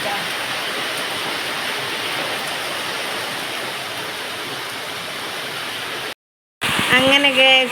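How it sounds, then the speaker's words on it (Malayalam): Heavy rain from a summer thunderstorm pours steadily as a dense, even roar for about six seconds, then cuts to brief silence before the downpour returns with a voice over it. "നല്ലൊരു മഴ ഉണ്ട് നല്ല ഇടി മഴ ഉണ്ട്"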